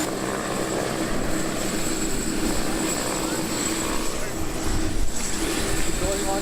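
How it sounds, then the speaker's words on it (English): Helicopter on a sightseeing ride over Maui, heard from inside the cabin as a loud, steady engine and rotor drone that fills the whole stretch, with no voices over it. "Going on the helicopter."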